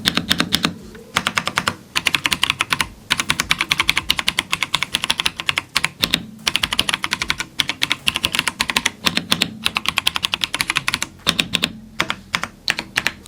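Rapid clacky keystrokes on a cheaper Lemokey mechanical keyboard rattle in a fast, uneven stream with brief pauses, close and fairly quiet, no talking.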